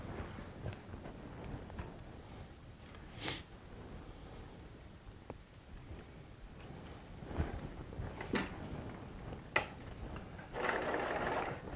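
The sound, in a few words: sewing machine sewing quarter-inch seams joining quilt blocks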